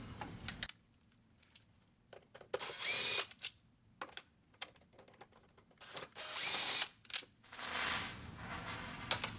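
A power driver backs out the screws holding the power head on a Clearion 300 or 360 control valve, heard as several short whirring bursts separated by quiet gaps, close by and moderately loud.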